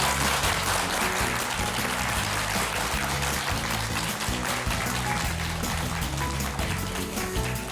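Steady applause from an audience after a talk fills the whole stretch, dense and sustained, with a low musical backing underneath and no voices.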